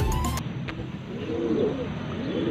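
Racing pigeons in a loft at sunrise give soft, low cooing over a steady background hum, with a brief rustle at the start.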